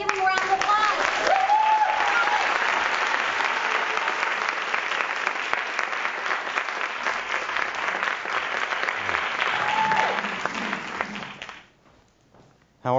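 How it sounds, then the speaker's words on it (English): A live audience at a WOWTalksLive 2014 talk breaks into sustained, dense applause that carries on for about eleven seconds before fading out abruptly, with a few faint voices over it. "Let's give him a round of applause."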